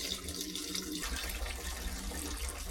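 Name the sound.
water flushing out of Kubota RTV 900 radiator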